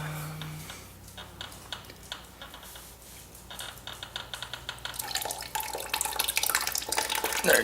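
Radiator fluid drains out of a 2007 Suzuki RM85 dirt bike as a trickling, dripping flow that starts faint and grows louder and busier toward the end.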